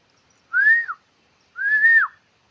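A person whistles two clear, drawn-out notes, each rising slightly and then dropping at the end, close and loud against silence.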